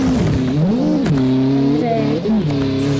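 Engine of a car in the CSX racing video game, a loud continuous tone whose pitch rises and falls as it revs and shifts, with a voice talking over it throughout.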